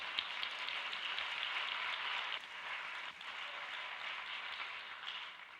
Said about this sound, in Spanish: Un aplauso para Ramón, por favor.